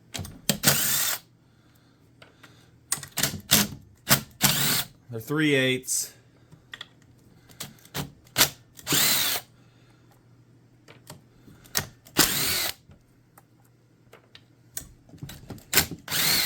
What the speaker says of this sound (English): I've had one of these break doing this with an impact, getting them out.